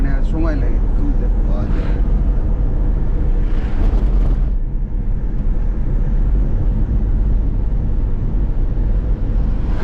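A 15-year-old Tata Nano's small engine drones continuously in the cabin on a forest road, with loud low rumble and wind roar throughout while people talk over it.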